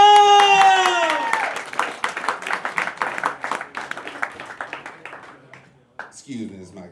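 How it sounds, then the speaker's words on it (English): An audience at an open mic night in a small music venue claps and cheers after a performer is introduced, a sustained round of applause tapering off, with a host's voice at the start and end. "let's give a round of applause for performer of the evening, Mico!"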